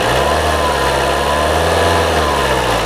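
A used car's engine is revved up close while its exhaust is checked for smoke, giving a loud, continuous mechanical roar with a slight rise and fall in pitch.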